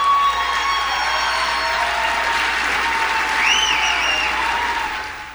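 An evangelical audience applauds Trump with steady, dense clapping that fills the room for several seconds, with a few high whistles or cheers rising near the end.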